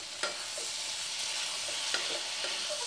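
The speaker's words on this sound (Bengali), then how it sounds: "এবার একটু কষিয়ে নেব 1 মিনিট মতন" Potato and soybean curry sautéing in a pan, a steady close sizzle with a few scraping stirs of a spatula, no talk.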